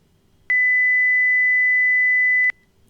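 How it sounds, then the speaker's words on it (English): A single steady pure tone, a clean unwavering beep held for about two seconds, loud and alone against quiet background hiss. "Like I said, a pure tone."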